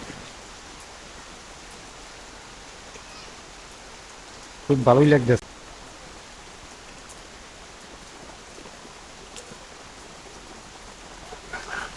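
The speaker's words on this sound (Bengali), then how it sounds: "এই যে অবশেষে রহমতের বৃষ্টি শুরু হয়ে গেছে" Rain falls in a village, striking a roof, as a steady, even hiss throughout, with a voice speaking briefly partway through.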